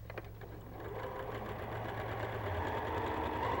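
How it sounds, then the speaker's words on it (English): A sewing machine runs steadily at close range, stitching quilt pieces together, with a hum and rapid mechanical chatter that builds and holds without a break. "Now we'll be sewing this together"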